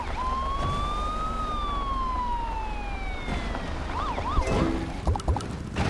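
An ambulance siren in a bridge-building video game sweeps in a long slow rising and falling wail, then shifts into faster yelping cycles, steady and moderately loud over a continuous rumbling game background.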